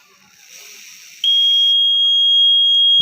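A homemade gas leakage alarm built without an Arduino switches on after quiet rustling, giving a loud, piercing, unbroken electronic tone that holds steady to the end.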